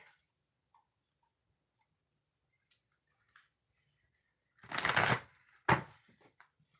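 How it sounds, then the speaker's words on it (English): Oracle cards are shuffled close up in a quiet room, two short papery riffle bursts, the first longer and louder, the second quick, with faint handling taps before them. "2 shuffles, and then we'll get started."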